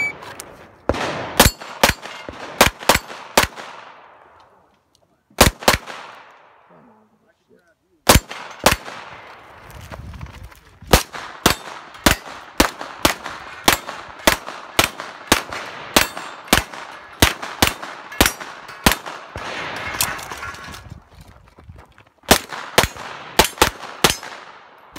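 Rapid gunfire at an outdoor 3-gun shooting match, loud close shots fired in quick strings with brief pauses, mixed with metallic clangs of steel targets being hit.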